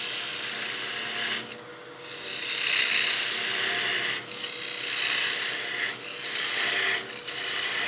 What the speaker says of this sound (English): I'm going to get my parting tool here and part down the end of that to where I know the bottom of the tenon is going to be.